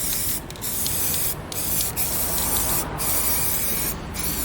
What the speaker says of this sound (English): So spray it on there.